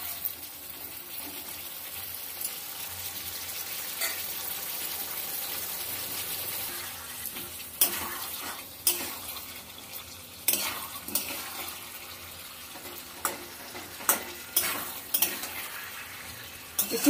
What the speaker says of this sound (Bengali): কষাতে হবে যতক্ষণ মশলা থেকে তেলটা ছেড়ে না যায়